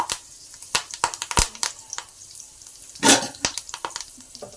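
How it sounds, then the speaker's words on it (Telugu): Curry leaves dropped into two tablespoons of hot oil, crackling and popping in sharp irregular bursts with one louder spitting flare midway, close and without talk. "ఆయిల్ బాగా కాగిన తర్వాత కొద్దిగా కరివేపాకుని వేసుకుందాం"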